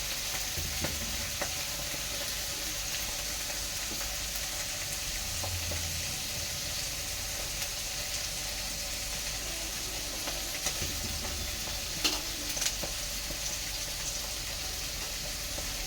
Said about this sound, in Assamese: পাঁচফোৰণ দি দিলোঁ দালিটো তেল মাৰিবলৈ, আৰু পিঁয়াজ দি দিলোঁ।